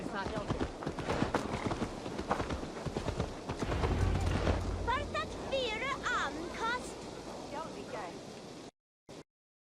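Horse hooves clip-clopping in Assassin's Creed Valhalla, a steady stream of hoofbeats mixed with rain and game ambience, with dialogue voices over it, ending in sudden silence.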